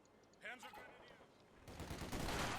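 MG-42 machine guns lay down suppression fire in Company of Heroes 2, rattling bursts starting faint and building to a heavier sustained chatter of gunfire, with a voice commentating over the early part.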